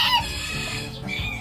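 Bantam chickens cluck and murmur nearby in a brief, busy stretch of overlapping farmyard calls.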